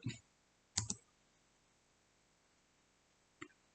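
Computer keyboard arrow keys pressed during video editing, three sparse sharp clicks: one at the start, a quick double tap just before one second, and a single faint tap near the end, close and isolated over near silence.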